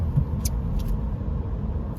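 Interior road noise from a 2022 Honda Civic Si with a manual gearbox while driving: a steady low engine and tire rumble with a couple of faint light clicks above it, and no talking.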